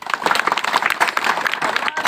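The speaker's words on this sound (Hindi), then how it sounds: "इस बात पे ताली बजाओ सब लोग" A crowd claps steadily and densely at a public gathering honouring Kanwar pilgrims, a continuous wash of many hands with a speaking voice carrying over it.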